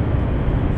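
A train passes close by near the Kansas River, a loud, continuous low rumble and roar that fills the short stretch without a break.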